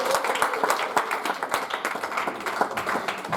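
A church congregation claps together during a sermon, a lively, dense, fairly close ripple of hand claps sustained throughout.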